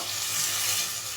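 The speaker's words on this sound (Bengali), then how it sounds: "এখন পরিমাণ মতন পানি দিয়ে দিব" Water poured into a hot pan of fried fish in a small home kitchen bursts into a loud, steady, close hiss of sizzling that holds throughout.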